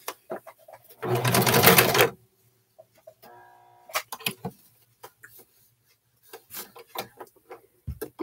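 A demonstration sewing machine at a sewing machine show runs in one loud, steady burst of about a second, followed by scattered clicks and handling taps, with a faint hum underneath.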